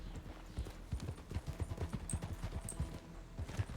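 Several horses' hooves clip-clopping in the RedM video game during a Wild West roleplay, a steady overlapping clatter of hoofbeats throughout at moderate level.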